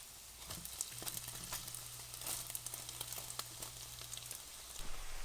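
Egg sizzling and frying in a pan for Polynesian fried rice, a steady crackling hiss with scattered pops and light scraping throughout, close and moderately loud.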